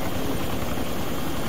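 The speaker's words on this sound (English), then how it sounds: "What the fuck's wrong with the helicopter?" Helicopter in the video game ARMA II, a steady broadband rotor and engine roar that holds on without a break, close and fairly loud, with no talk over it.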